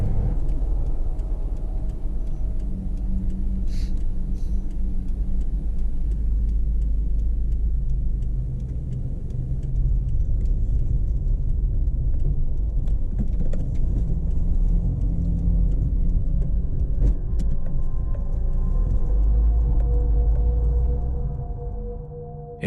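Dashcam car drives through a raging forest fire, a steady loud engine and road rumble with wind-like roar filling the whole stretch, a few sharp crackles and knocks scattered throughout.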